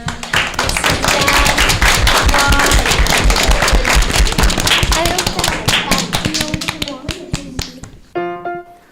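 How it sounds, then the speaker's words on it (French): A crowd claps in dense, fast applause for several seconds, then it stops abruptly and a brief tonal sound follows. "Applaudissements au voyage."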